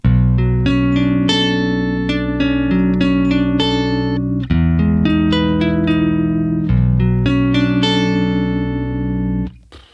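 Strummed guitar chords heavily processed by a Polychrome DSP Hypertune pitch effect, giving a synthetic, stepped, robotic tone; loud and continuous with a few chord changes.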